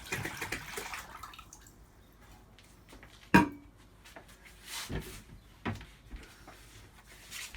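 Water poured from a flask into a cooking pan, a soft irregular splashing and trickling with a sharp splash partway through and scattered drips afterward, close and fairly quiet.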